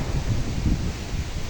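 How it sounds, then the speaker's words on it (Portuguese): Strong wind gusting on a Sunday afternoon in Paulo Afonso, a loud, close, continuous rumbling buffet with rustling, without speech. "Uma ventania mais ou menos de 30 a 35 km."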